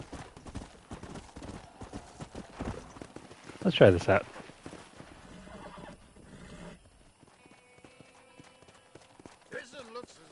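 Hooves clip-clop and a wild horse whinnies loudly while being broken in Red Dead Redemption, with a sharp burst of neighing midway, mixed with in-game talk.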